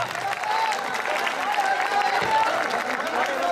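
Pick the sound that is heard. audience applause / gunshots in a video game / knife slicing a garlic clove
audience applause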